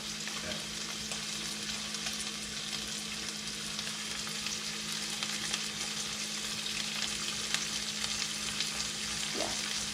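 Steady, loud sizzling of shrimp frying in a hot pan, a continuous crackling hiss with occasional pops.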